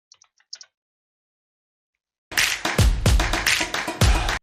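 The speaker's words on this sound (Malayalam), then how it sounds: "ലെവൽ 2 നമുക്ക് കിട്ടിയ പാസ്വേഡ് ഇവിടെ ടൈപ്പ് ചെയ്ത് കൊടുക്കാം" Password typed on a computer keyboard during a Linux command-line wargame, heard as a brisk run of close, loud key taps after a few faint early clicks and a long silence.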